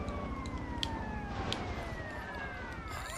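Police car sirens wail in Grand Theft Auto Liberty City Stories, sweeping tones rising and falling over a steady car engine rumble, moderately close and continuous for the few seconds.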